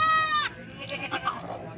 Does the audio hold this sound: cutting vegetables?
no